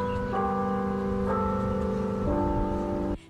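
A church's original bell tolls in three sustained, ringing strikes about a second apart, each resonant tone overlapping the last, loud and close, then it cuts off abruptly.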